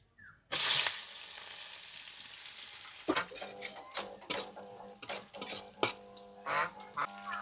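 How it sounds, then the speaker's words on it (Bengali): Bay leaves, dried chillies and cumin seeds drop into hot oil with a loud burst of sizzling, followed by the scrape and clatter of stirring in a pan as the sizzle settles. "তেলটা গরম হয়ে গেলে তেজপাতা, শুকনো লঙ্কা, জিরে ফোড়ন দিয়ে দিতে হবে"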